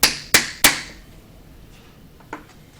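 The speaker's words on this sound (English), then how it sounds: "a piece of soft wood that we're going to use to brace against the tsuba so that we can tap on it with the hammer" A hammer taps three times in quick succession on a piece of soft wood braced against a Japanese sword tsuba, sharp close knocks followed by a quieter tap a moment later.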